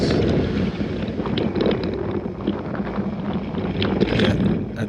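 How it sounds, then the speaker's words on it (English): Strong wind during a group bike ride, roaring and buffeting steadily against the microphone at a fairly loud level, with no talk. "Very windy here."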